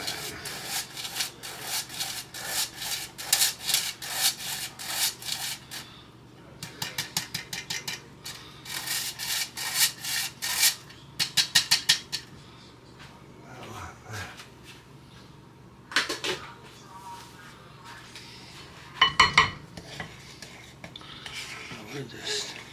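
Dry all-purpose flour stirred around a mixing bowl for brownies, giving bursts of close scraping and clinking against the bowl with short pauses between rounds of stirring.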